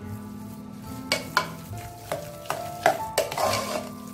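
Sugar and ghee stirred into hot sweet kavuni rice in a pan, a spoon scraping and tapping the pan in uneven strokes with a faint sizzle, close and clear, with no voices.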